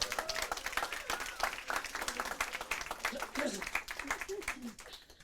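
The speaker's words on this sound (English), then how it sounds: "If we get a round of applause for them, that'd be amazing." Audience at an awards evening of champions breaks into a round of applause, dense clapping mixed with scattered voices and crowd murmur, moderately distant and fairly even throughout.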